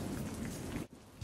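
Steady storm rain pours onto a surface in a dense, even hiss, then cuts off abruptly near the end, leaving a brief quieter gap.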